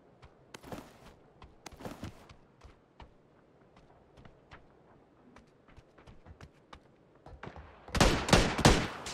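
Gunfire in the video game PUBG: scattered single sharp shots popping at irregular intervals, mostly mid-distance, then a louder close burst of rapid shots near the end.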